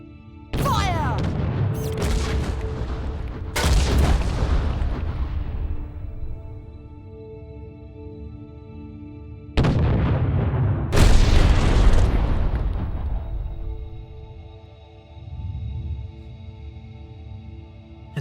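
Naval cannon fire and explosions in the Treasure Planet: Battle at Procyon game, with a pirate ship attacking. Several loud booming blasts come in two clusters, each followed by long rumbling decays over a low steady hum.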